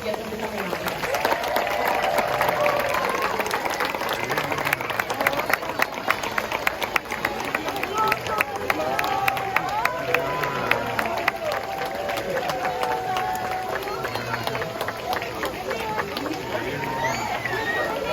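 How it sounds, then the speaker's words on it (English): A zoo crowd at the Denver Zoo elephant show claps and cheers steadily, a dense wash of applause with scattered voices and chatter running throughout. "Let's give them a huge round of applause and see if we can get them to come out with us."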